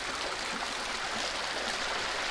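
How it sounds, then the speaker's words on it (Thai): A waterfall at a black Buddha Jayanti statue in a hand-planted forest pours in a steady, dense rush of water, constant and fairly close, with no voices. "น้ำตกของพระพุทธชยันตีองค์ดำนี่สวยมากเลย"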